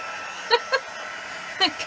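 A handheld embossing heat tool blows a steady, even rush of air throughout, with a few short high-pitched vocal chirps popping up over the hiss.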